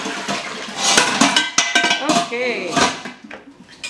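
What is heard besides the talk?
straining cooked pasta, draining water in kitchen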